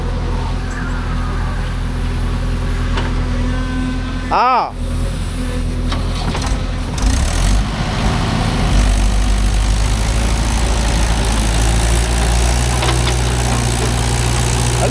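A JCB 3DX backhoe and Mahindra 415 DI tractor work together loading soil, engines idling and rumbling heavily and continuously up close, with a brief sharp squeal midway and people talking over the machinery.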